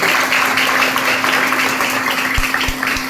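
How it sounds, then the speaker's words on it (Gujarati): Audience applause at a de-addiction awareness rally and programme, a dense steady clatter of many hands clapping throughout, loud and close, with a few sharper individual claps standing out near the end. "એમના માટે એક જોરદાર તાળી પડવી જોઈએ."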